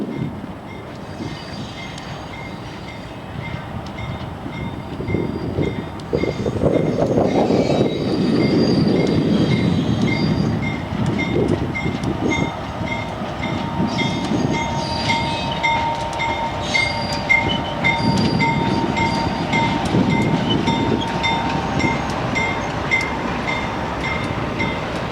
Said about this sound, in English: What's called the inspection train.